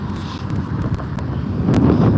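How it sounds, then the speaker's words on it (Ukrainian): Steady wind buffeting the microphone outdoors, a continuous low rumble with occasional sharper gusts and no talking. "Бачиш, який вітер"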